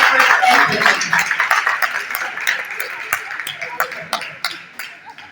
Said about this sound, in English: I request everyone to please join me in giving a big round of applause to all the participants